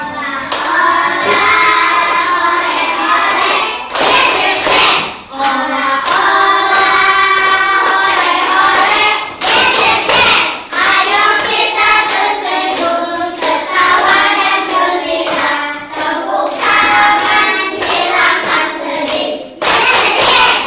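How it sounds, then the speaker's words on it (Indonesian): In a classroom, a group claps hands steadily in time while singing the children's song "olah-olah" together. The clapping and singing stay loud and continuous throughout, with only brief dips between phrases. "Sambil tepuk tangan."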